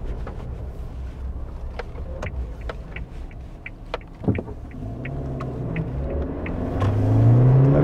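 A 2019 Suzuki Jimny accelerates at full throttle, its engine rumble building to a rising drone near the end, with scattered clicks and rattles from the cabin and no talk.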